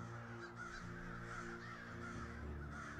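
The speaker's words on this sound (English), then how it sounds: "you hear a crow call in the distance" Faint, distant crow caws, repeated a few times, sound over a low, steady background wash.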